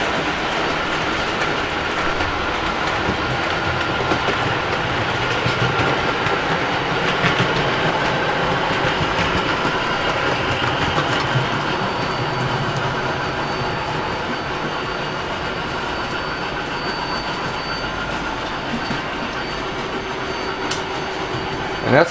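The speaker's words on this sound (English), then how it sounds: "that's a pretty heavy train for that nickel plate to be pulling" A model Nickel Plate locomotive pulls a heavy train continuously along its track, a steady rumbling clatter of wheels with faint clicks, even in volume throughout and no talking.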